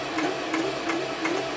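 A Toyota Oekaki sewing machine stitches with a steady, quick mechanical rhythm, its regular clicking beats and motor whir running continuously and close by with no talk.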